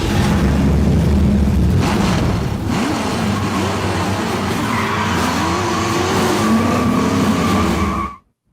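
A Ford Mustang muscle car roars loudly and continuously for about eight seconds, its engine drone mixed with squealing, skidding tires, before the sound cuts off abruptly.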